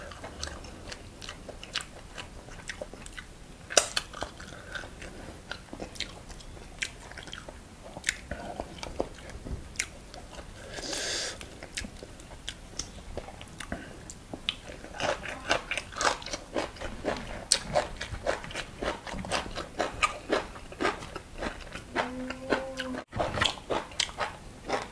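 Eating steamed tilapia with blanched vegetables, with close, steady crunching and chewing that carries on throughout and faint voices in the background.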